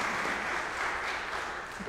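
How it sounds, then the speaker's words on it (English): A church congregation applauding children greeters at a Sunday service, a steady, dense wash of clapping from many hands that fades a little toward the end. "They're applauding because they were so touched by the fact that you were standing there just saying hello"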